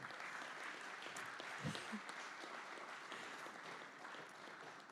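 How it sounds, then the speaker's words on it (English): An audience at a landscape architecture awards ceremony claps for an award presenter, producing continuous, even applause that sounds fairly faint and distant throughout. "Please give him a big round of applause"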